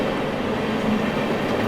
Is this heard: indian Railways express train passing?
yes